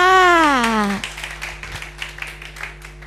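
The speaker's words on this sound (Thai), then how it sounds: "วันนี้นะคะก็ขอเสียง ปรบมือต้อนรับ" A drawn-out voice gives way to a round of light, steady clapping from a small group at an exhibition event, the claps soft and close together.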